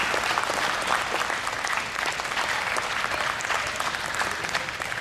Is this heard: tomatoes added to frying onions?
no